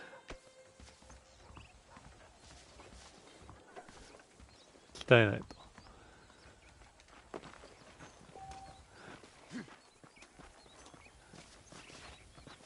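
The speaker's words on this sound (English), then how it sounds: "The horses are saddled up over here." Horses in the Western video game Red Dead Redemption walk with soft hooves clip-clopping, faint under a Japanese speaker's commentary, with one louder burst midway.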